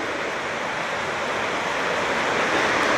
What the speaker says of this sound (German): Dieser Esperland Falls ist mit einer Fallhöhe von 99 Metern übrigens angegeben.